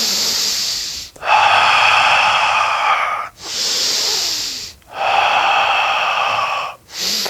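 Slow, deep breaths alternate in and out, each long airy exhale and inhale close to the ear, separated by brief pauses, with no talking.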